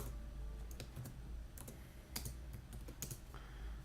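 Quick bursts of typing on a computer keyboard, uneven clusters of close key clicks scattered across a few seconds over a low steady hum, with no speech.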